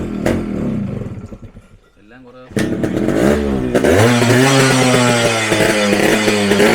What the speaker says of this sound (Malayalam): ഓക്കെ, സ്റ്റാർട്ട് ആവുന്നുണ്ട്. അതുകൊണ്ട് എഞ്ചിൻ്റെ സൗണ്ടും കാര്യങ്ങളും എല്ലാം നിങ്ങൾ കേട്ടോ.